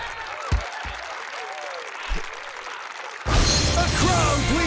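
An arcade card video game plays a burst of crowd cheering and applause that swells in loudly near the end, after a stretch of softer game tones and a few low thumps.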